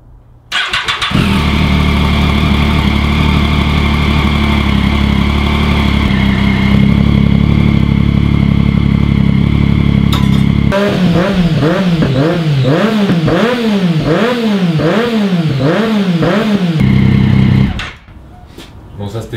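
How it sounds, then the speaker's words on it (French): A three-cylinder motorcycle engine starts up and idles with a steady, loud drone, then revs repeatedly in rising and falling swells before cutting off near the end; heard up close. "si vous voulez écouter un petit peu le bruit du 3 cylindres"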